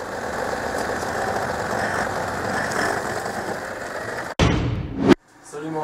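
A farm tractor engine runs at a steady, loud idle with a dense rumbling chug, then the sound cuts abruptly into a short, harsher burst before dropping away.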